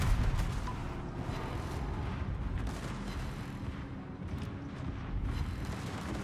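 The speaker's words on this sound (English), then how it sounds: "This is the ammunition exploding and flying out from the epicenter of the explosion." Ammunition cooks off in an explosion, a dense rolling stream of booms and cracks from the epicenter, continuous and rumbling for several seconds with no speech.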